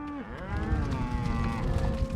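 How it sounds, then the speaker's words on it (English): Cattle lowing during a cattle drive at Dryhead Ranch in remote south central Montana, a long, wavering moo close by, with other cattle and hoof noise rumbling underneath. "Driving cattle at Dryhead Ranch in south central Montana."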